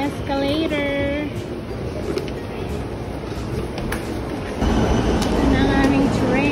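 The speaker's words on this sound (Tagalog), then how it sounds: "Ito na ang aming train." A train pulls into a station in Japan with rumbling, hissing rail noise and a rising electric motor whine that grows louder near the end, while people talk nearby over the station din.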